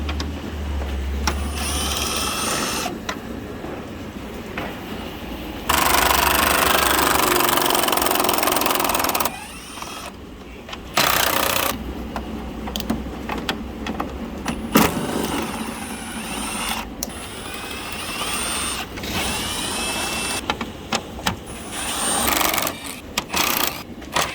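A 10mm socket on a power tool whirs in loud bursts, one long sustained run and several shorter ones, as bolts come out of the grille of a 2019-2022 Ram 2500/3500 pickup, with clicks and handling noise between.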